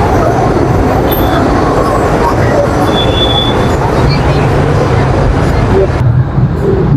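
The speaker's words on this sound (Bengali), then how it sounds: "Malaysian metro." A Malaysian metro train in Kuala Lumpur rumbles past loudly and close, a continuous roar with faint wheel squeal and clatter, then cuts off near the end.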